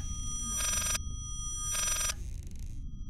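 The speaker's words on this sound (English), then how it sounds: "we can't pick up the phone. Yeah, we can't hear over this fucking phone." A telephone bell rings in the horror video game Layers of Fear, two clear electronic ring bursts separated by a short pause, near and heard alone.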